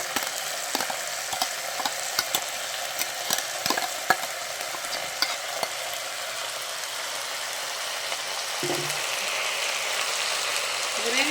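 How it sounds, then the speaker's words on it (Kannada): Masala paste and gravy frying in a pan for kaal gojju, a steady close sizzle with occasional stirring scrapes throughout. "ಎಲ್ಲ ಹಾಕ್ಬಿಟ್ಟು ಸ್ವಲ್ಪ ಹಿಂಗೆ ಸ್ವಲ್ಪ ಫ್ರೈ ಮಾಡೋಣ ಹಸಿ ಸ್ಮೆಲ್ಲೆಲ್ಲ ಹೋಗಲಿ"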